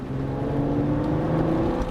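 A high-mileage V6 Toyota RAV4 engine revs steadily and close by, a muscular hum held at an even, sustained level throughout with no talking.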